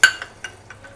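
A lid clinks down onto a pan of roasted chana dal chutney ingredients, with a sharp metallic tap followed by a few softer knocks over about a second, close and fairly quiet.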